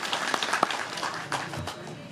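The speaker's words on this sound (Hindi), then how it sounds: "एक बार तालियों से उनका अभिवादन करिए।" A political rally crowd in Bansur claps in greeting for a party worker; scattered, fairly quiet clapping with a few sharper individual claps, heard from some distance amid background murmur.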